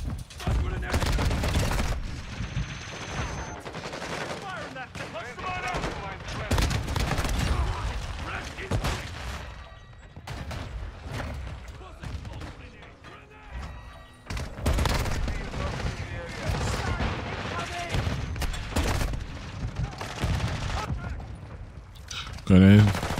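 Pistol gunfire in the video game MW2, with repeated loud bursts of shots in clusters separated by brief pauses amid busy game sound effects.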